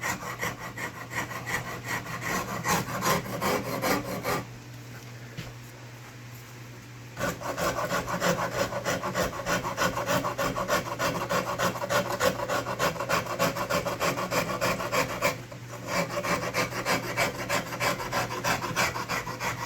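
A rasp carving a wooden guitar neck, rubbing back and forth in a long rhythmic run of close, rough strokes, broken by two short pauses.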